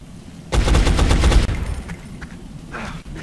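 Gunfire in the video game XCOM, a loud rapid burst of shots lasting about a second, followed by quieter echoing tail and faint clicks.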